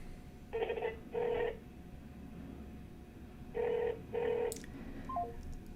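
An unanswered telephone call ringing out, two pairs of short electronic ring bursts separated by a long pause, heard clearly over a low background hum.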